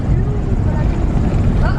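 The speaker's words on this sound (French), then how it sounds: "Je crois que l'avion il est enfin là." A small airplane arriving for a child's first introductory flight gives off a loud, steady propeller-engine drone, a dense low rumble that holds constant and close throughout the short stretch.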